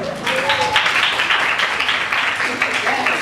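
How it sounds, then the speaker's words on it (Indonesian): A short burst of hand clapping, several quick claps in a row, with voices chattering close by, during a magic and hypnosis game with Islamic boarding school students. "Aku tepuk tangan dulu."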